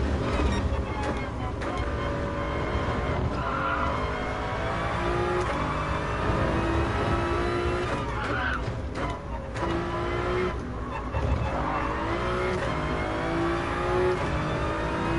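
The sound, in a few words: race car engines revving in a racing video game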